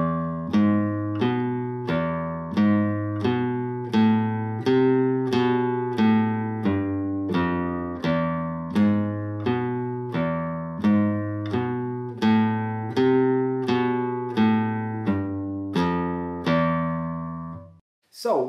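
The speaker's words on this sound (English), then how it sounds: "the basic melody played on the bass strings, so in the lower octave. And I play it with the thumb." A low-pitched flamenco guitar melody on the bass strings, plucked with the thumb in free strokes, evenly spaced notes each ringing and fading, played alone at a steady pace before ending abruptly.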